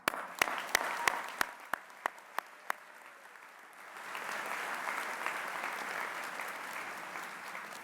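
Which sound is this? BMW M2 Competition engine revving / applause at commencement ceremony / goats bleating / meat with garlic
applause at commencement ceremony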